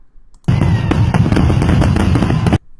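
Fireworks burst in a dense, continuous barrage of crackling explosions for about two seconds, loud and close, then cut off abruptly into quiet.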